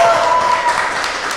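Audience at a panel event clapping and cheering, a dense burst of applause with voices calling out, loud and close, fading slightly over the short moment.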